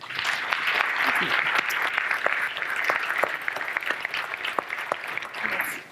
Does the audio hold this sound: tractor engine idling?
no